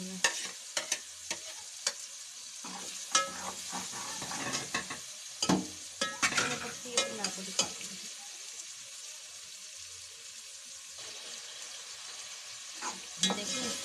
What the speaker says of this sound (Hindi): हो करके भिंडी डाल देनी है।